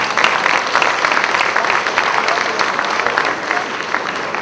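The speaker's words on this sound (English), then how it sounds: "Please join me now in giving them a big round of applause to thank them." Audience applause at a real estate awards ceremony, a dense, even clapping throughout, fairly loud and close, with a faint murmur of voices beneath it.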